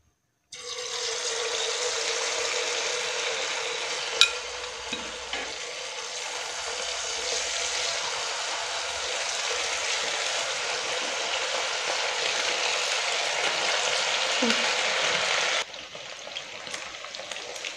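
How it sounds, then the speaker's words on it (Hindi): Marinated chicken pieces for chicken manchurian fry in hot oil with a loud, steady sizzle that carries on without a break before cutting off sharply near the end. No one speaks. "ये हमने मैरिनेट करके रख दिया था 1 घंटे के लिए। अब इसे फ्राई करेंगे।"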